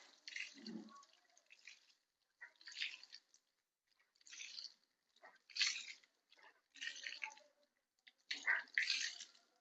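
Water poured by hand while washing a motorbike, heard as short splashing bursts that come and go about every second or two, close by and fairly faint, with quiet gaps between pours.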